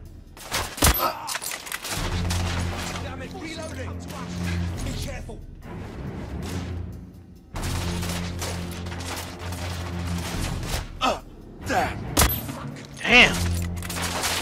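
In The Order: 1886, gunfire rips through a fence in rapid, crackling bursts. Volleys start and stop over several seconds, with sharp close shots and a brief lull in the middle.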